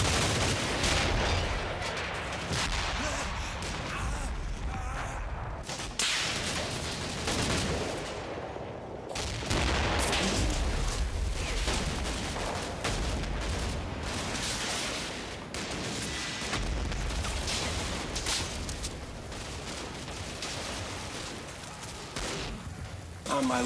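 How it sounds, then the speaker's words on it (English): Combat in a WWII video game as a German assault hits GIs on a hill: dense, loud bursts of rifle and machine-gun fire with booming explosions, nearly continuous with only brief lulls. "we're seeing GIs on the South Hill under fire from a German assault"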